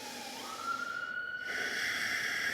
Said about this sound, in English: Wait for the police car to go by